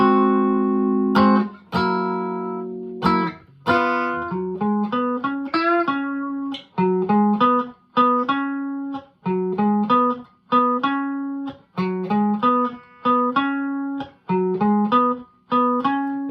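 A clean electric guitar plays a blues riff alone after the turnaround: plucked notes and chords in a steady, bouncy rhythm, each note ringing briefly before the next.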